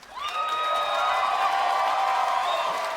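A crowd audience breaks into loud cheering and whooping, a dense sustained roar of voices rising quickly and holding for a few seconds.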